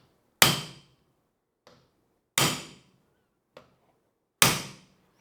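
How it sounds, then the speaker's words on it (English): Three sharp metallic hammer strikes land on a punch staking a castle nut, evenly spaced about two seconds apart and each ringing out briefly, with light taps between and no talking. "I am going to give it 3 good whacks."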